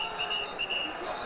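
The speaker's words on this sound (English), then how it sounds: "We got a couple of whistles, no flags." Referee whistle at an XFL football game, Orlando at Chicago: a steady high whistle tone sounding repeatedly in short blasts over constant crowd and stadium noise.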